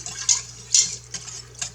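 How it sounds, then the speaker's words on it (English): Pork ribs drop into a pot of heating barbecue sauce and water, making a few soft splashes and drips spaced unevenly over a faint steady hum. "I'm going to start dropping the ribs in."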